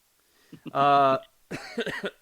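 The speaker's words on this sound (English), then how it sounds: "I had a little cough earlier this week, and apparently it's coming back" A single loud, rasping cough sounds close up, followed by a few words of speech.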